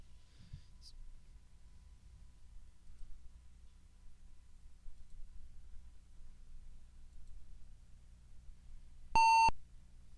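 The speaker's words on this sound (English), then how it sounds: "Angry beep." An angry beep from the 1996 Windows 95 FMV game The Sacred Pools, a single loud electronic tone lasting about a third of a second near the end, following a long stretch of quiet low background hum.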